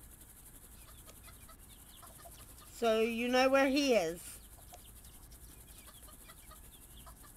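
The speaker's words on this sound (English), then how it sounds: "He's that chicken over there." A chicken in the game RuneScape 3 gives one short burst of clucking, clear and close, with faint talk before and after it.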